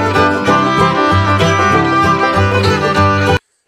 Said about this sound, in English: then in the sweet by and by, which sounds like this.